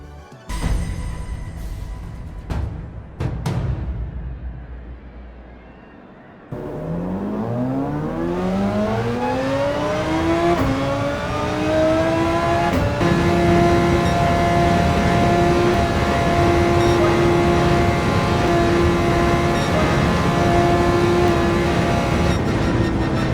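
A race car on a qualifying lap at Deep Forest in Gran Turismo 7, opening with clicks and a brief burst, then a loud engine climbing through repeated rising revs and gear changes before settling into a sustained high drone.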